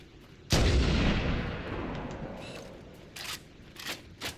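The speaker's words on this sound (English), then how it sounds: "the guns sound so similar" A single loud, booming gunshot from the Halo: Combat Evolved video game cracks out and decays over a second or two, followed by a few fainter, sharp shots.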